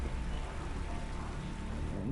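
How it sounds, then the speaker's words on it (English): Heavy rain pours down during a MotoGP 19 race weekend at the USA Grand Prix, a faint, steady wash of hiss and patter with no break in it. "It's raining. It's just tipping down."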